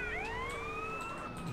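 A police car siren in Grand Theft Auto: San Andreas wails in a rising, sweeping tone, fairly close and steady, over low engine rumble with no talking.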